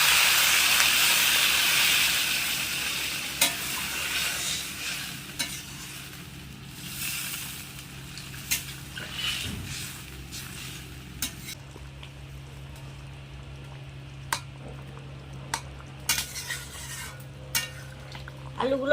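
Potatoes cooking in a pan after water is added, with steady steaming hiss and bubbling at first that eases off, then scattered clinks and scrapes of stirring and a quieter simmer.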